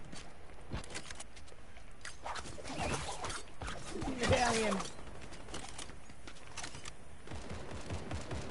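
Gunfire in the video game Fortnite, from a weapon with a drum magazine: quick bursts of shots, moderately loud, amid footsteps and game effects, with a player talking over it.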